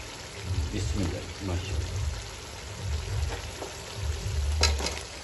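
Fried wadiyan drop into separated ghee in a pan for a wadiyan gosht curry, giving a steady close sizzle and frying hiss that keeps going while someone talks over it.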